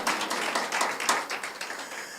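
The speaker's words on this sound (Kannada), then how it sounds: "ಚಪ್ಪಾಳೆ ತಟ್ಟಿ ಹಾಲೆಲೂಯ." A church congregation claps hands during a Kannada sermon, a dense patter of overlapping claps that stays fairly loud and even for a couple of seconds with no voices over it.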